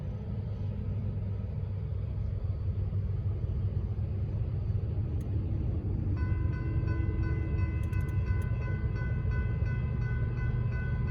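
A Norfolk Southern freight train, NS 241, rolls past with a constant heavy rumble of wagons and wheels, and a steady horn-like whine joins partway through.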